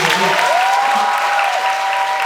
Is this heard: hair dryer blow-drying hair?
no